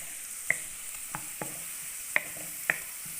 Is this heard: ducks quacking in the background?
no